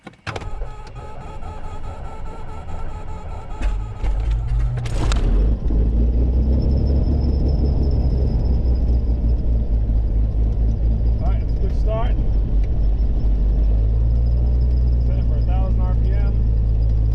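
A Beechcraft Bonanza's propeller engine cranks with a sharp burst, then catches and settles into a loud, steady low rumble close by, with faint voices over the drone.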